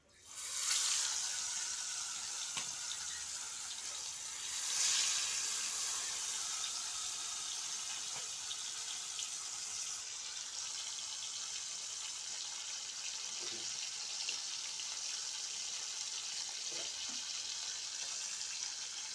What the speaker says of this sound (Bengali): তো এখন এটা তেলে দিয়ে দিব, তেলে দিয়ে ফ্রাই করব।